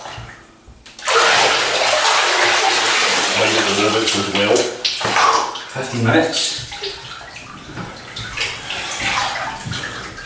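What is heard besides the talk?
bathtub filling with warm water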